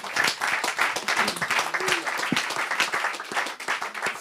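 A church audience applauds and cheers in praise of Jesus, with dense continuous clapping and scattered voices throughout.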